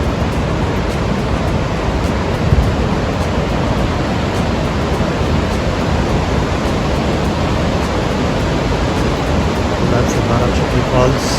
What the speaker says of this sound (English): Lovely falls, a beautiful place to stand and watch.